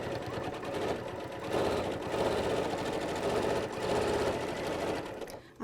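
A sewing machine with a stitch regulator runs steadily with a close, smooth mechanical whir, surging and easing slightly as the stitching speed changes, with no voices.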